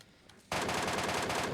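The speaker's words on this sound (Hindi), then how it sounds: "MK14 खतरनाक गन जब ऑटो पे चलती है तो बंदे की पेटी बनते टाइम नहीं लगता" An MK14 rifle fires on full auto in PUBG Mobile, cutting in abruptly as a loud, rapid, unbroken burst of gunfire that continues to the end.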